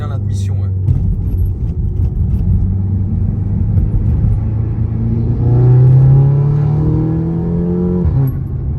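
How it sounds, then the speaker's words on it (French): Car engine accelerating with its intake audibly sucking air, a low rumbling drone that rises in pitch toward the end, while people talk over it. "on entend l'admi qui aspire, c'est bien"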